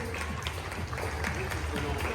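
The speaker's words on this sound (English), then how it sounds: "We have a huge round of applause for Richie and Lucy O'Donnell, please." An audience at a competition show day applauds a pair of competitors with a continuous wash of clapping and crowd noise, with voices mixed in.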